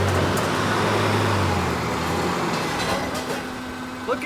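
A Daihatsu Rocky climbs a trailer ramp, its engine a steady close rumble under broad road-like noise that eases slightly toward the end.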